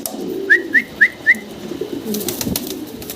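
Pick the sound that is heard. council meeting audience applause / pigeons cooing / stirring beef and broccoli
pigeons cooing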